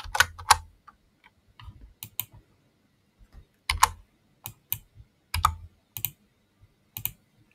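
Keys on a computer keyboard are pressed in short irregular bursts of crisp, close clicks separated by quiet pauses, with no speech.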